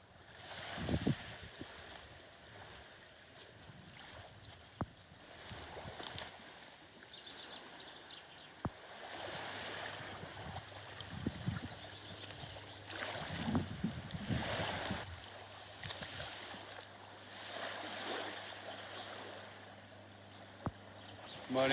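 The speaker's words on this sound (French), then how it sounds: "nous voilà sur la plage" Waves wash onto a beach on Porquerolles island, a steady broadband rush that swells and eases over about twenty seconds, with gusty wind buffeting the microphone throughout.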